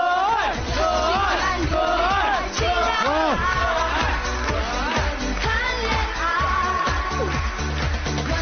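Studio audience on a Chinese dating show cheering and chanting in rhythm over loud backing music, repeated shouted bursts filling the room as a contestant walks on.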